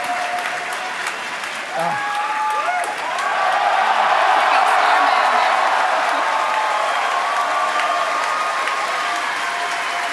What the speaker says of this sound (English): if you could hear all that cheering